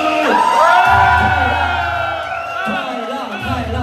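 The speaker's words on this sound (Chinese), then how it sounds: "尖叫声" At a Lions Club District 300B1 gala evening, an audience screams and cheers in loud, rising bursts while a voice shouts or sings over the crowd noise.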